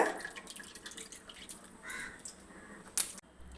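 Strained coconut milk drips and splashes in a kitchen, with soft irregular wet drops and a short trickle, fairly close, and a crow caws faintly in the background.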